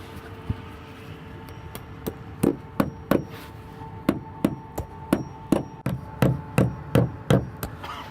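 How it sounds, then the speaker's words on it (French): Nails with plastic washers hammered through insulation into a ceiling, a series of sharp, close hammer blows in quick groups of two and three, each strike crisp and ringing over a quiet room. "tout ce qu'on a à faire, c'est de le fixer au plafond avec un clou, avec une rondelle en plastique"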